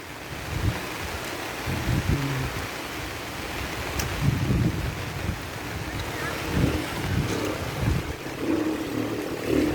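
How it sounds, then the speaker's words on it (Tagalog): Downpour drums on an umbrella near a mountain river with a newly built bridge, a continuous rushing hiss with gusty low rumbles while a person speaks intermittently beneath it. "lakas ng ulan guys"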